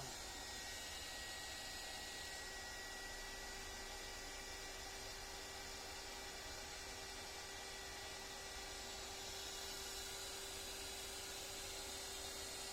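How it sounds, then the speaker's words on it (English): A heat gun runs continuously at low volume, a steady airy hiss with a faint hum, used to soften the adhesive under a guitar pickguard. "And here goes the heat gun."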